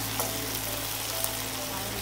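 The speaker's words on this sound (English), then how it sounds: "Now I need to add my spring onions." Spring onions fry in a pan for a wet mbuzi fry, a steady, close hissing sizzle over a constant low hum, with a couple of faint clicks.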